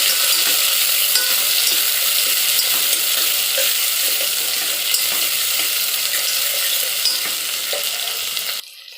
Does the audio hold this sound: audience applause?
no